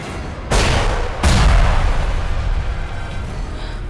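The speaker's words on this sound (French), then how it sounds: "Ça avait l'air d'une explosion." Two deep, heavy booms from an explosion in a monster film set at a deep drilling site, one at about half a second and a louder one just after a second, each rumbling away slowly, with no talk.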